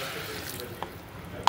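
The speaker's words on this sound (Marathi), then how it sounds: "आता आपण पाणी टाकतोय." Water is poured into a pan of rice that has been sautéed in spice masala for brinjal rice: a soft, steady pouring wash with a couple of small clicks near the end.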